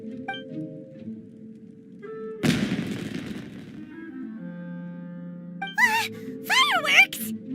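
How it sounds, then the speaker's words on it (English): Fireworks in Genshin Impact's Inazuma region go off as one sudden crackling burst that fades over about a second, set against soft game music, with a brief voice afterward. "It sounded like fireworks."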